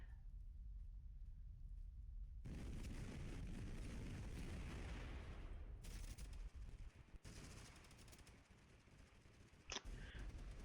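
A grenade blast in a VR shooter lands as a loud, broad burst about two seconds in, among dense battle noise. Rumbling gunfire and explosions follow, and a sharp crack comes near the end.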